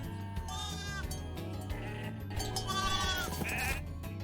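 Sheep bleating inside the video game Spyro 3 in the Reignited Trilogy, several wavering bleats in quick succession over a low musical background, close and clear.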